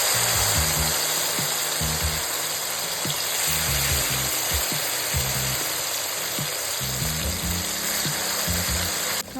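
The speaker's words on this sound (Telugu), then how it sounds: "కాకరకాయ ముక్కల్ని ఆయిల్లో మంచిగా ఫ్రై చేసుకోవాలండి." Bitter gourd pieces frying in hot oil, a steady loud sizzle that continues unbroken throughout, with faint clinks and low thumps from the pan underneath.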